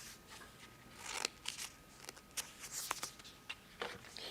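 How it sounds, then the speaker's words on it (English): Scissors snip by hand around a stamped paper mask image, giving quiet, close, irregular crisp cuts and paper rustles with no speech. "You can fussy cut it with a pair of scissors, which is what I'm going to do. I'm going to cut out this mask."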